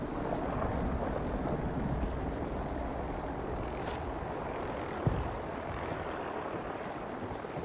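Steady rainfall in a Fallout 4 thunderstorm, a constant hiss of rain on surfaces with low thunder rumbling underneath and one brief sharp crack midway, even and unbroken throughout.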